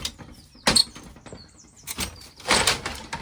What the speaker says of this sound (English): Oh, lovely door.